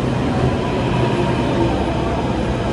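A Delhi metro train rushes past at Rajiv Chowk station with a loud, continuous whooshing roar that stays steady and close for the whole stretch.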